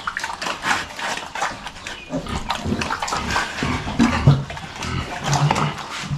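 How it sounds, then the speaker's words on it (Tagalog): A litter of twelve piglets just over a week old squeal and grunt continuously up close, a dense, busy chorus of overlapping cries. "Labing dalawa po yung biik natin."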